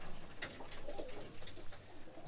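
Young roller pigeons coo softly in a loft as they finish feeding, with low repeated murmurs and a few higher chirps over steady background noise.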